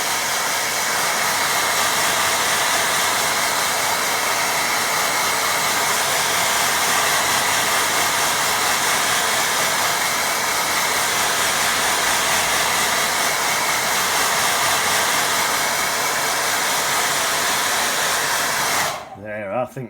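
A hair dryer blows steadily and loudly onto a watercolour painting of cool and warm colours, a continuous close whoosh filling nearly the whole stretch before cutting off abruptly at the very end.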